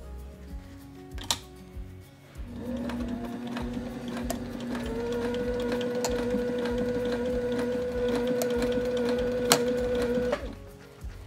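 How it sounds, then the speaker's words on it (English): A sewing machine runs a line of stitches along the bottom of webbing on a bound hem, a steady mechanical whir with a rising hum that lasts about eight seconds between a few clicks. "we're also gonna sew a line of stitches at the bottom of the webbing to hold it into place"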